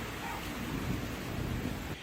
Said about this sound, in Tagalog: Pero maghapon pa rin maulan sa Baguio City.